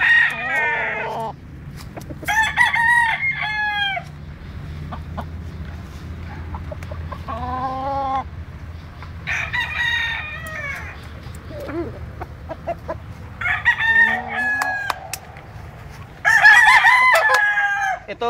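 Several Hatch gamecock roosters crow repeatedly from nearby, their calls overlapping and spaced through the scene amid low background rumble and occasional clucks.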